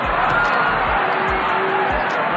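Boxing arena crowd at a Mike Tyson heavyweight fight against Tony Tucker, a steady loud roar of cheering and chatter filling the hall, with a few low thumps underneath.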